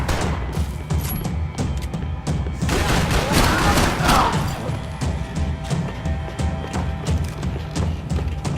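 Heavy gunfire pounds away in Max Payne 3, loud and close, with repeated shots and a dense, booming stretch midway over a low rumbling background.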